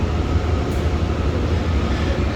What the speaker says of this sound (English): the train will stop a few more times